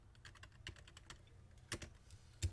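Computer keyboard typing while entering a label in spreadsheet software: quick, uneven key clicks close by, with a few louder strikes near the end and no talk.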